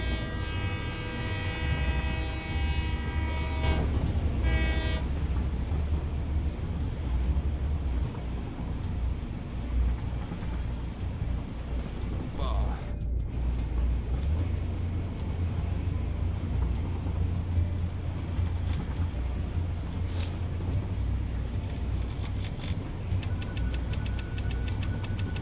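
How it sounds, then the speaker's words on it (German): Train in the video game Satisfactory, broken and rattling, gives a steady metallic ticking clatter over a low rumbling hum, with game music underneath and no voices. "Der Zug ist kaputt, der klappert."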